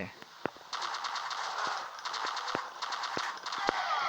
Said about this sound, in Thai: แต่ปืนนี้มันเสียงไม่ค่อยแน่นเท่าไหร่